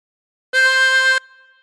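A 24-hole tremolo harmonica plays one blown note on hole 9, a steady, bright, buzzy reed tone lasting under a second that cuts off sharply and leaves a faint lingering ring.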